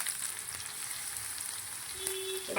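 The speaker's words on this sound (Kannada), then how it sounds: "ಒಗ್ಗರಣೆ ಕೊಡ್ತೇವೆ ಸಾಸಿವೆ ಕಟಪಟ ಅಂತ" Mustard seeds crackle in hot oil for tempering, with garlic and curry leaves in the pan for an aloo matar gravy: a steady close sizzle with faint pops, then a louder surge at the end.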